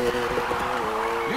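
A car drifts in Need for Speed Heat, a steady engine drone with a sustained tonal tire squeal running through it and rising at the end, while a voice talks over it.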